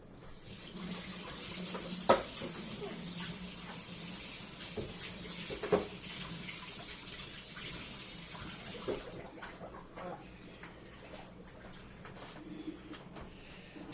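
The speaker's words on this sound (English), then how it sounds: "Let me wash this stuff off my hands in a minute." Kitchen tap running steadily into a sink while hands are washed, a continuous close splashing hiss for about nine seconds, then the flow stops, leaving quiet drips and light handling sounds.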